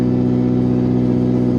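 An old car engine runs and idles roughly, a steady, loud, close rumble with uneven low pulsing that holds throughout without any talk.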